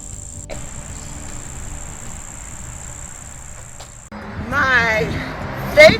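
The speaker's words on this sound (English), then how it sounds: "the crickets" Crickets chirp outdoors in a continuous high, steady trill for several seconds, then fade under a close voice speaking.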